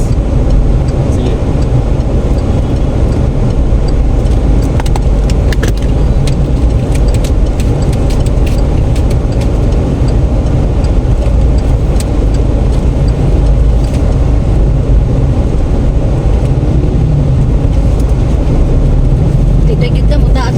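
Heavy city road traffic with cars and engines rumbles steadily and loudly throughout, with continuous low engine noise and passing vehicles, and voices talk over it.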